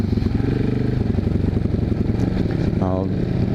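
GPX Moto FSE 450R single-cylinder motorcycle engine running steadily while riding, a loud continuous rumble with wind noise, plus a brief rising rev near the end.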